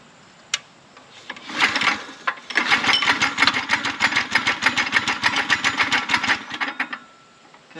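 A Manco Intruder II go-kart engine sputters into life and runs a rough, rapidly pulsing idle for several seconds nearby, then cuts out.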